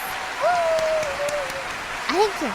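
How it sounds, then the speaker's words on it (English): During a cooking livestream, a room of hands claps continuously while rising and falling whoops and cheers cut through, a whistling cry early on and sharper yelps near the end. "the room slowly fills with the sounds of hands clapping again, punctuated with whoops and cheers."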